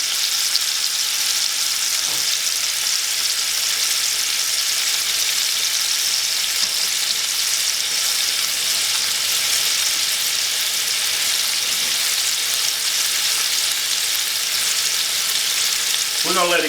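Chuck roast sears in a hot pan with a loud, steady, close sizzle that holds evenly throughout, joined by a few faint clinks and no talk.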